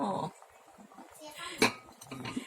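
Bua loi, a Thai rice-ball dessert in ginger syrup, is ladled from a pot into a bowl, with metal utensil scrapes and clinks against cookware, a sharp clank near the middle, and someone speaking briefly at the start.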